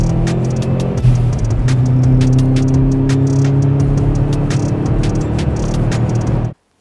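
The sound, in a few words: 1998 Subaru Impreza GT rally car engine revving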